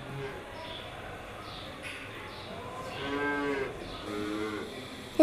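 Cows on a dairy farm low in a couple of drawn-out moos, moderately close, over a steady barn murmur, with faint clattering in the background.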